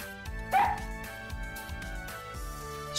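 An anime dog yips and whimpers in short repeated bursts over a sustained musical background, fairly close and moderately loud.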